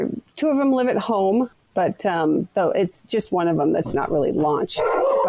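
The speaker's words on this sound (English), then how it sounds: "sorry, that's my dog." A dog barks and yips repeatedly in a home during a radio call, sharp close barks cutting through and overlapping a person talking.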